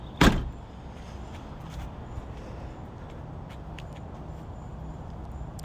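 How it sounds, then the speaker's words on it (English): A single solid thud comes from the door of a 1996 Nissan Skyline GTS25T R33 being shut, loud and close at the start, then a quiet hum of the surrounding space. "didn't close that door all the way"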